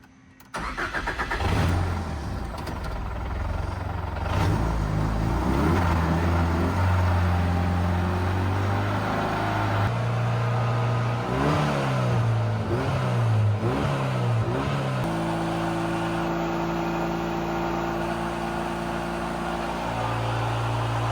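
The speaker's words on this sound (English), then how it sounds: "we're gonna try and crank it for the first time" A fresh Ford EcoBoost engine swapped into a BMW E36 cranks over for the first time with its direct-injection driver unplugged. The loud, close mechanical churning continues for about twenty seconds with shifting tones and no speech.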